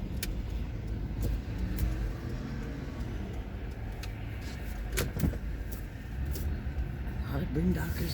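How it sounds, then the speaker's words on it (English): A car driving on a road past a crowded Walmart lot with boondockers and parked vans, a steady close cabin rumble with occasional clicks and knocks, while people talk inside. "Drive in the car."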